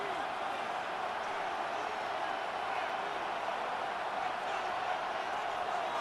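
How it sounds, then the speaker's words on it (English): Steady, dense roar of a stadium crowd in Madden NFL 26 football, a constant wash of massed voices holding at even loudness without any break. "The crowd making their presence felt."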